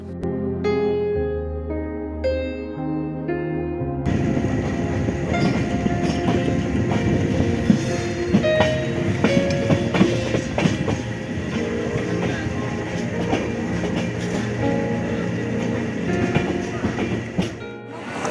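The Jan Shatabdi Express rolls into Ghaziabad Junction, a loud continuous rumble with rattling carriages and clatter that fills most of the clip after a brief opening of quieter tones.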